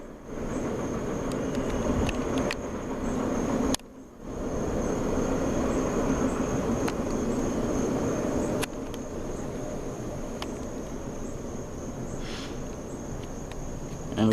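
A CSX freight train led by a Dash 8 locomotive rolls past on the Trenton Subdivision with a steady rumbling roar, while a high insect whine runs throughout.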